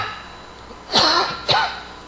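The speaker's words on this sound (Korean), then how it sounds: "왜 이렇게 아침에 기침이 나죠?" Two harsh coughs about half a second apart from a preacher during a Sunday morning church service sermon, fairly close and alone with no talk over them.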